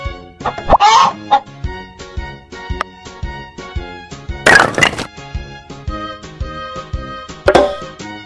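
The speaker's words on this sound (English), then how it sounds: "Chicken." A cartoon chicken clucks in a kids' puzzle game, giving a few loud, short squawking bursts spaced apart over a bright, plinking tune.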